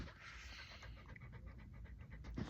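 A dog pants quickly and steadily indoors at close range, soft breathy huffs repeating throughout with no one talking.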